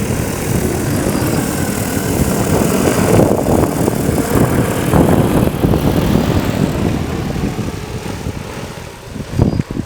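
A loud, steady motor whine with a dense, rotor-like drone from a car-sized farm spray drone taking off, close by and building slightly toward the end, with no talking.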